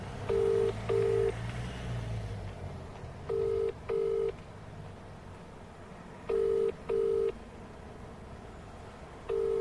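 Telephone dialing and ringing out on a call: paired electronic ring tones repeat at a steady interval over faint background noise, with no talk.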